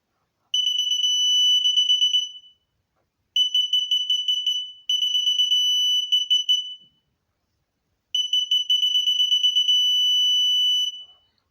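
A Mazda 626 electromagnetic parking sensor sounds a loud, rapid electronic beep in four separate runs, each lasting one to three seconds, with quiet gaps between them and no talking.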